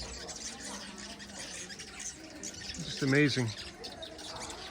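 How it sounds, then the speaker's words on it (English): Cliff birds nesting under the eaves of a hotel in Borneo give a burst of loud squawking calls over steady outdoor background noise, while someone talks nearby. "Cliff birds nesting under the eaves of the hotel."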